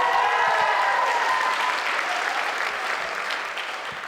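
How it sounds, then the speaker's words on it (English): Audience applause fills a school band's spring concert hall after a group's silver-medal state jazz result, a dense steady clapping wash that gradually tapers toward the end, with a faint tonal hum from the stage area. "so a round of applause for that."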